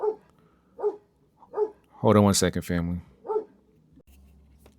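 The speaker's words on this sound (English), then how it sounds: "The dog is just a little bit excited." An excited dog barks several times in short bursts, fairly close, between and around someone speaking.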